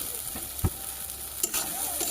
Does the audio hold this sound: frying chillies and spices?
yes